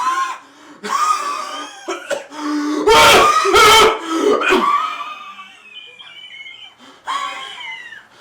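Several loud, harsh coughs burst out close by in a short cluster, among throaty vocal sounds and breaths.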